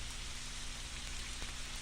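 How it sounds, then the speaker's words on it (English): Dense, hissing heavy rain pours steadily and evenly as a brief sound effect, with no voices. "It was raining hard"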